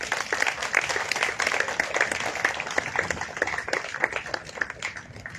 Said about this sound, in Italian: Un applauso lo meriterebbe, vero?